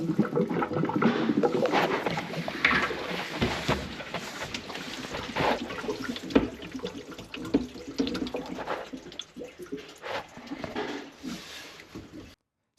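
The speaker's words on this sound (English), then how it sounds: "Now there's a little trickle of water coming down this branch here." Water trickling and gurgling through a drain branch pipe on a trading estate, with a kitchen sink blockage and mud-filled drain, a close, continuous splashing flow with irregular bubbling.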